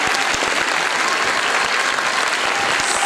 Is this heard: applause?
yes